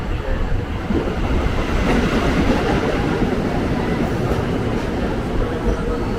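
A new INKA-built KRL commuter train in Jakarta bound for Jakarta Kota runs along the track, heard as a loud, continuous rumble with faint clickety-clack throughout, no talking.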